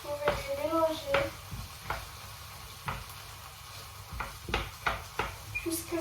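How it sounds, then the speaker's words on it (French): Onions and peppers sizzle gently in a pan over low to medium heat while a small spoon stirs them, repeated scraping clicks and taps against the pan in an uneven rhythm. "Et avec d'une petite cuillère comme ça, vous allez mélanger"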